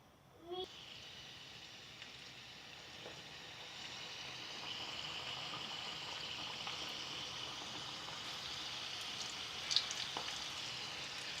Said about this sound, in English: So the oil is hot now. So let's drop one by one.